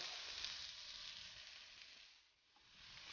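Onion browning in olive oil in a pan gives off a steady, close sizzle of frying with a soft dip in intensity near the end, with no voices.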